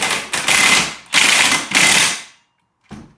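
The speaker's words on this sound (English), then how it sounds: "we're taking our 21 socket. Get it on here. Tighten it down." A ratchet tightens a bolt on a C5 Corvette's lower control arm with a 21 mm socket. It gives three quick bursts of close, loud clicking, then a short final click. No one speaks.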